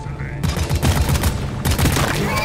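Video game gunfire in two loud, rapid automatic bursts separated by a brief pause, crackling shots tightly packed and close, with no other sound between them.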